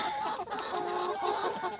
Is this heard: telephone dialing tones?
no